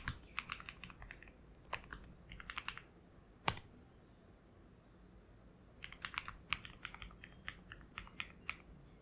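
Someone types a password on a computer keyboard: quick clusters of light key clicks, a sharper tap like Enter in the middle, then another brisk run of keystrokes, close and clear in a quiet room.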